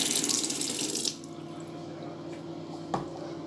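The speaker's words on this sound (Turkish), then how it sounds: "Şimdi bunun üzerine su dolduruyorum." Tap water gushing into a liquid soap bottle to thin the soap for foam soap, a loud rushing pour for about a second, then a quieter trickle with a small clink near the end.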